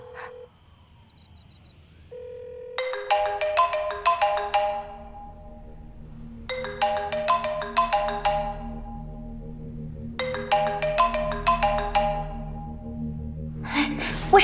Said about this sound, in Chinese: 好像是曾平的手机